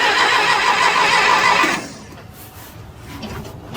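An old Massey Ferguson backhoe engine cranks and catches with a loud, harsh roar for nearly two seconds, then drops to a quieter, rougher running rumble.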